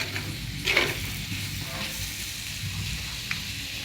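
Sausages fry in oil with tomato in a pan, giving a steady close sizzle and crackle, with a brief stirring scrape near the start and no talking.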